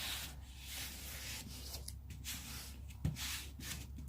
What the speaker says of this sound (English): just push down all the duct tape onto the other duct tape that's on the canvas